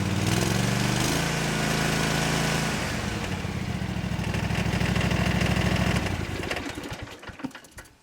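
Cub Cadet lawn tractor engine running loud and close, a steady throbbing idle that shifts pitch as the revs change, then winds down and cuts out near the end.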